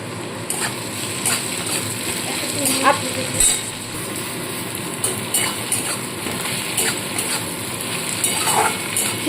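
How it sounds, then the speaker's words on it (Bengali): Onions frying with a little sugar in a pan give off a steady hiss, with occasional clinks and scrapes of stirring close by. "চিনিটা দিয়ে ভালো করে পেঁয়াজটাকে আরেকটু হালকাভাবে ভেজে নেব"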